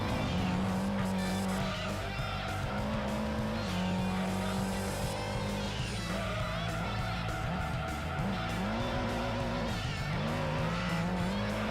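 Race car in Gran Turismo 2 sliding under too much power, engine droning steadily with rising and falling pitch and tire squeal as it skids, loud and continuous with a voice talking over it.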